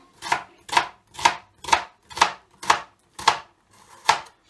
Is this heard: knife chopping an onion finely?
yes